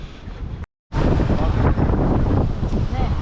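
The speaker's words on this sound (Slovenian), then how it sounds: "Imamo kar vetra že do 40 vozlov sunku" Strong winter wind gusting up to 40 knots roars across the microphone aboard a Cyclades 50.5 sailing yacht in the Cyclades, a loud continuous buffeting broken by a brief cut in the sound.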